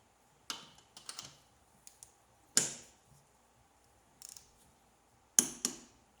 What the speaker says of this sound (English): There you go, hear that click? That's the spec